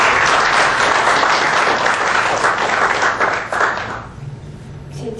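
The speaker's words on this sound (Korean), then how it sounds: "이한석 의원님께 다시 한번 큰 박수 부탁드리겠습니다" After a lecture at an economic policy forum, the audience gives a big round of applause for the speaking lawmaker. The clapping is loud and close, then fades toward the end.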